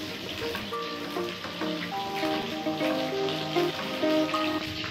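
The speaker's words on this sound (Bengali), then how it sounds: "আগের থেকে কেটে ধুয়ে রাখা পটলগুলোকেও ভেজে নিচ্ছি" Pointed gourd (potol) pieces frying in hot oil, giving a steady close sizzle with crackles, mixed with a layer of tonal background sound.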